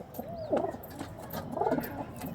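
Pigeons for sale give two soft, throaty coos about a second apart, close by, over a faint background hum.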